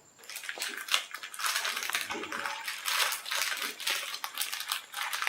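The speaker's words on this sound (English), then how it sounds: "I'm ready to pull the backing off, again holding it at a sharp angle, meaning close to flat" Backing paper peels off a vinyl stripe on a car's right front fender, making a continuous close crackling, rustling tear that lasts several seconds.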